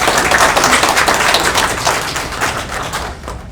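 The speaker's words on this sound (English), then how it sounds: "Let's have another round of applause." Audience applause at a poetry and storytelling reading during the Hawaii Book and Music Festival, a dense, sustained clatter of many hands clapping that slowly tapers off toward the end, with no talk over it.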